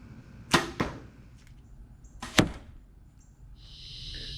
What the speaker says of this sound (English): then I'm going to shoot 4 arrows